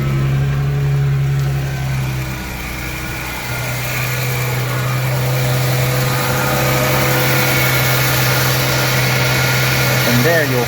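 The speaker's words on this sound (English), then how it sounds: "then you turn on the car and make sure everything is good" A 1999-2004 Ford Mustang V6 idling after an oil and oil filter change: a steady, close engine hum with a low tone held throughout, and a brief shift early on, as someone talks over it.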